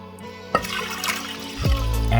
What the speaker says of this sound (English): I'm going to toss in some water